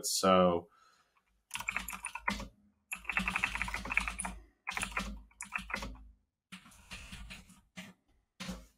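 Typing on a computer keyboard comes in close bursts of rapid key clicks separated by short pauses, with a brief spoken word at the start.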